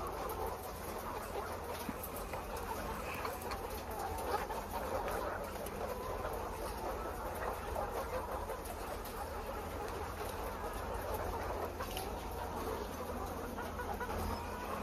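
A steady din of many birds fills a poultry shed, with chickens clucking and chirping in a dense, continuous background throughout.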